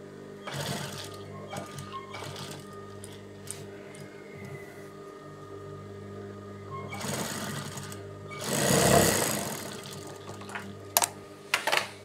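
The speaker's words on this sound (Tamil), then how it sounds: "மேலே திருப்பி வச்சு இப்படி அப்படி நான் வராத அளவுக்கு தை மேல் தையல் போடுங்க" A sewing machine stitches the lining of a churidar top, running steadily up close in a continuous hum with short rises and stops, and a louder burst near the middle.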